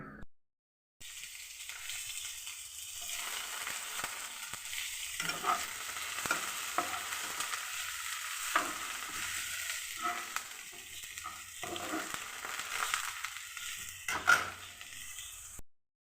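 Spinach and onion with mustard seeds and chilli sauté in a pan, a steady sizzle under repeated scraping stir strokes of a spatula that continue for about fifteen seconds.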